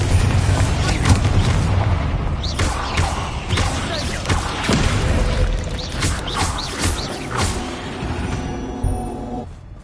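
Hogwarts Legacy battle with the Confringo fire spell, dense booming blasts and crashing impacts one after another, loud and close, mixed with game music and a spoken line.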